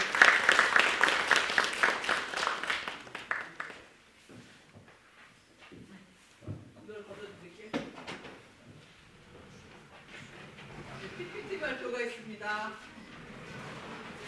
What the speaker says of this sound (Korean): 큰 박수로 우리 고주환 대표님을 모시겠습니다.